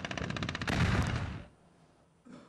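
A loud burst of explosive, gunfire-like cracking from a single explosion during an Israeli attack, about a second and a half, then it drops to quiet before a faint rise at the end.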